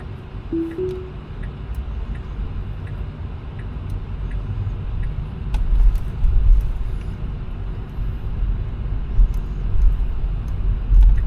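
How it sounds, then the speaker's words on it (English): A car drives past at close range on a street near a store, a steady low road rumble swelling and easing over several seconds, heard alone without talk. "let's wait for this car to go by"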